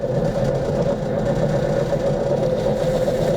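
A lapidary wheel grinds a turquoise stone, giving off a steady, unbroken motor whir with a constant tonal hum that stays loud and even throughout.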